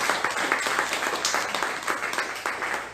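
Church congregation applauding God during a Spanish-language sermon, a loud, steady mass of clapping from many hands, continuous and even with slight rhythmic pulsing.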